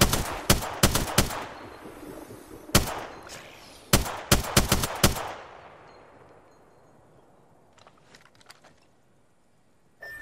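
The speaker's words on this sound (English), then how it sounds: "They're shooting at me!" Loud bursts of gunfire from the video game Apex Legends, several rapid clusters of close shots in the first half trailing into quieter, more distant pops, with no voices.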